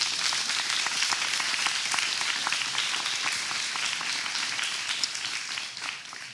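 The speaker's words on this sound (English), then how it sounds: "Can you guys help me give them a big applause?" Steady audience applause fills a fashion-week talk venue, many hands clapping in a dense, even wash that holds for several seconds and tapers slightly at the end, with no voices over it.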